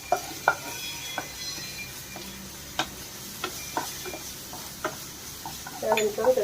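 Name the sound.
ginger garlic paste frying with onions in pan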